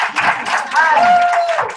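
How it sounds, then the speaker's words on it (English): A round of applause breaks out at a meeting, a steady wash of hand claps from a group, with a brief high whistle-like tone rising through the middle. "That deserves a round of applause."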